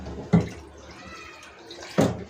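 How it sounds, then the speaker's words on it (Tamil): Water splashes into a curry pot as it is filled for a Tamil-style gravy, two brief louder pours standing out over a low continuous trickle. "தண்ணி நம்மளுக்கு எவ்வளோ குவான்டிட்டி வேணுமோ கொஞ்சம் கூடுதலாகவே ஊற்றிக்கலாம்"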